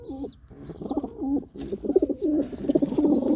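Domestic pigeons coo repeatedly close by, soft throaty rolling calls overlapping in a loose rhythm, with a few higher chirps over them.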